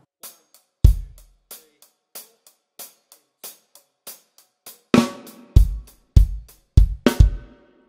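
Drum kit playing three bars: sparse hi-hat ticks and kick hits, then a run of loud accented crash and bass drum strikes in a quicker rhythm, played solo and close.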